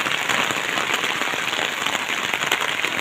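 Steady, dense rain pours down outdoors at night on flooded streets near a pond, a constant close hiss of drops with no pauses and no voices.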